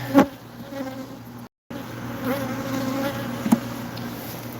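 Honeybees buzz steadily in a bee yard on an 82-degree day, a close, continuous hum with a few sharper passes near the microphone and one brief dropout.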